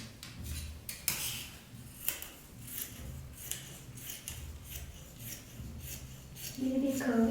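Scissors cut through fabric for a kimono jacket sleeve in a run of close, crisp snips and rustling strokes, with a few louder clicks and some handling noise near the end.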